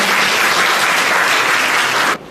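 An audience at a spiritual seminar in a nursing school in Rajasthan gives a loud, dense burst of clapping to welcome a speaker, sustained for about two seconds before cutting off abruptly.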